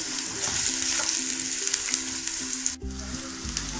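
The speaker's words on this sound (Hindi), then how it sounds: "जैसे ऑयल थोड़ा हीट अप हो, इसमें मैं ऐड कर रही हूँ प्याज। इनको हल्का सा फ्राई करना है, लाइट ब्राउन पर।" Chopped onions sizzle steadily in heated oil for a light browning, a close, continuous crackling hiss with a sharp clatter near the end as something is added or moved.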